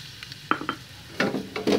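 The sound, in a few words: garlic frying in leftover pork oil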